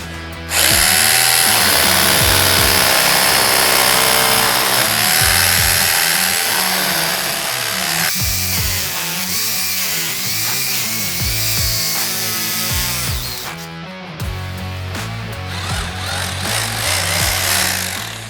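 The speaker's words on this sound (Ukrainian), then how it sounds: "не забуваємо перевести наш перфоратор у режим свердління з ударом" Loud, continuous rotary hammer drilling into a wall with rebar, with a rapid pounding rattle, running steadily with brief dips and restarts between bursts.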